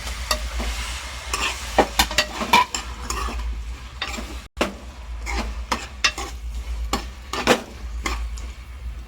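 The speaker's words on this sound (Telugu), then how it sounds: "ఇప్పుడు బాగా కలుపుకోవాలి ఒక 2 సెకండ్స్" A spatula stirs chopped tomatoes around a hot pan for tomato rice, with repeated sharp scrapes and clinks over a low, constant sizzle, close and rhythmic throughout.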